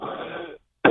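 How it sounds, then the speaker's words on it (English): A single short, harsh cough up close, preceded by a breathy rasp and a brief pause. "excuse me, sorry to cough."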